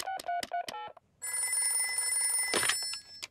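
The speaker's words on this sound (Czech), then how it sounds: "Žádný strach, zavolám doktoru Huňáčovi." Old-style telephone bell ringing in a Peppa Pig cartoon: a few short bright rings, then a pause and a long sustained ring, with a brief burst of other sound near the end.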